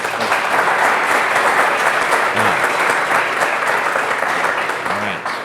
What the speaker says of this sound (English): So big round of applause for Cameron and Tyler.